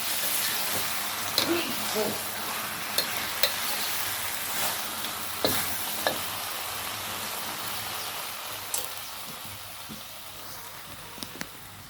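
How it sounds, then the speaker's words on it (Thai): Pork belly stir-frying with kaffir lime leaves and green peppercorns in a pan, giving a steady broadband sizzle with scattered sharp clicks and scrapes from stirring. There is no speech. "คั่วหมูสามชั้น ใส่หน่อไม้ ต้ม พริกไทยอ่อนนะ"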